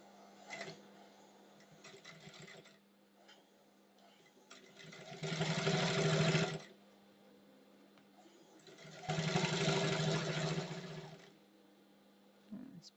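A sewing machine stitches a shirt collar in two loud, steady whirring runs of about two seconds each, separated by quieter pauses with faint handling noises and no speech.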